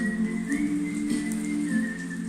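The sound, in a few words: heavy rain pouring outside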